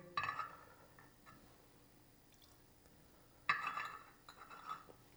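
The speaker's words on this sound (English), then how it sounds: "Now this water that I used to warm my cups, I'm going to put into my Zhenshui." Water from warmed tea cups poured into a ceramic waste bowl during a gongfu tea session, two short splashing pours with light clinks of porcelain, close and quiet, no talk.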